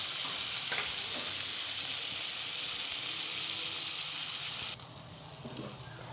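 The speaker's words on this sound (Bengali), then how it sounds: "আমি আলুটাকে হালকা একটু ভেজে নেব আলুটা আগে" Potatoes frying in hot oil with whole spices for an egg and soybean curry, giving a steady close sizzle that runs unbroken and drops slightly quieter near the end.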